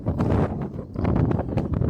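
Gusty outdoor wind buffeting the microphone in rough, uneven surges, loud and close for a couple of seconds with no talking.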